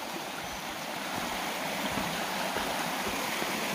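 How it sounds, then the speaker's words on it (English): A small stream beside the Appalachian Trail in the Georgia mountains, near Gooch Mountain Shelter, gives a steady, full rushing and burbling that stays close and fairly loud throughout, with no voices. "Come across this nice little water stream here."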